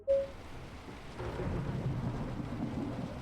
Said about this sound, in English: I see the rain sounds better. I like thunderstorms